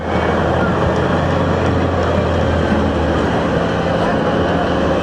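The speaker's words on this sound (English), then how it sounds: "It's a beautiful John Deere tractor." A big John Deere tractor rolls past in a small-town parade, a loud steady engine rumble with broadband road and crowd noise holding constant throughout, no talk.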